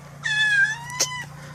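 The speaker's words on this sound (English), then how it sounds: "trying to tell the cats to be quiet" A cat gives one clear, drawn-out meow close by, followed by a brief softer chirp, over a low steady background hum.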